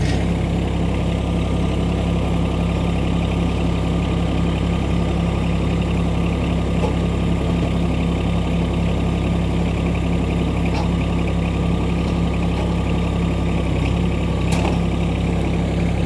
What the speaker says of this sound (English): We can then start the tractor again